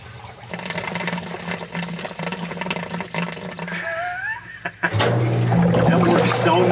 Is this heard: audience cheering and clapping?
no